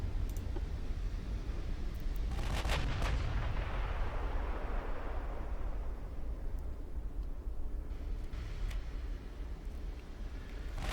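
Heavy naval gunfire from battleships in the game Ultimate Admiral Dreadnoughts, including an H Class battleship: a booming salvo around the three-second mark rolling over dense, continuous rumbling, with further distant shots later on.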